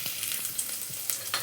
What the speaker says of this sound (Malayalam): ഒരു പാത്രത്തിൽ തേങ്ങ വറുത്തെടുക്കുവാണ്